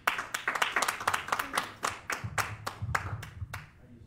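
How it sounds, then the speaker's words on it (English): A church congregation claps together in a steady, rhythmic beat, sharp distinct hand claps repeating roughly twice a second, with a low murmur of voices underneath. "Give the Lord a big old hand clap."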